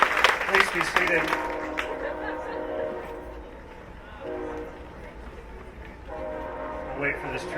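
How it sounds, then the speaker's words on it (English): A train rumbles past at an outdoor evening talk in Tucson, Arizona, sounding a loud horn near the start and then a lower sustained tone, with crowd and speaker noise blending faintly underneath. "I'll wait for this train to go by."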